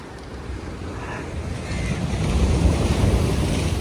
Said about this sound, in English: The waves hit very badly here.